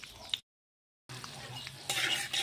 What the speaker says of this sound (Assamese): তেলত দি দিলোঁ সৰু চাই 2টা এলাচি, এটা কাজু বাদাম আৰু কেইটামান কিচমিচ তেলত অলপ টাইম ভাজি ল'ম।